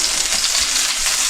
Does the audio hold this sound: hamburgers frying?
yes